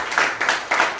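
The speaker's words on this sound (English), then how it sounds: "Let's give the Lord a hand clap of praise." A church congregation at a Sunday worship service claps in praise, a few broad bursts of many hands close together over a short stretch, fairly loud with no talk on top.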